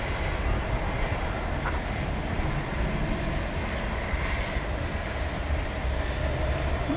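A Sun Country jet airliner at DFW Airport sends a continuous, loud, broadband engine roar that holds steady from a distance, with no voices over it.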